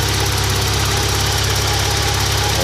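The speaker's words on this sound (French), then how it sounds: "moteur 4 cylindres essence" Opel Frontera four-cylinder petrol engine with a recently replaced timing belt idling steadily at close range, a constant rumbling drone with a regular low pulse and no talking.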